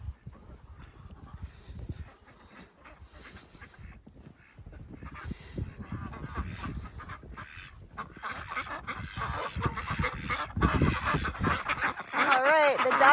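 Ducks quack and honk in a snowy yard after a blizzard, a busy mix of calls at moderate distance over crunching movement, growing louder and more insistent toward the end.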